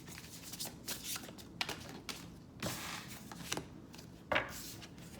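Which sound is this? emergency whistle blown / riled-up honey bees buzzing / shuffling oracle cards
shuffling oracle cards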